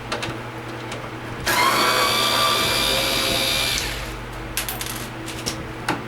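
A power tool whirs for about two seconds while a bolt is removed during the teardown of a JHS A016-10KR/B1 portable air conditioner, followed by a few light metallic clicks.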